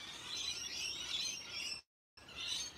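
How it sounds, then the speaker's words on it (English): Birds chirping in a tree outdoors, a faint busy twitter of overlapping high chirps and squeaks running continuously, broken by a brief cut of silence. "There's a lot of bird action in this tree behind me for some reason"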